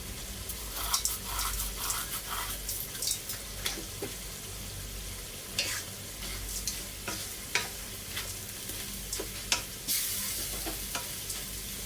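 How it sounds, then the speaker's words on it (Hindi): Beef mince with red chilli powder, turmeric and salt fries in a pan, a continuous sizzle broken by repeated close scraping and stirring strokes of a spoon. "और कीमे को थोड़ी देर के लिए भूनेंगे।"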